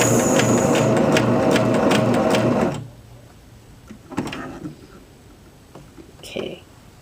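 A sewing machine runs a short basting stitch on a wrap skirt toile, a loud steady whir lasting a few seconds before it stops, followed by quiet handling clicks and rustles.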